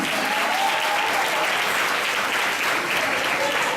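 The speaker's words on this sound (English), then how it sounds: "give them another round of applause" An audience applauds kindergartners at a school move-up day ceremony, a dense, steady wash of clapping that holds evenly throughout with no break.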